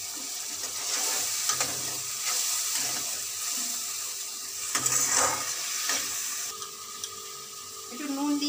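Tomatoes frying in oil in a pan over a gas flame, a steady soft sizzle with occasional stirring and clinks throughout, no talking.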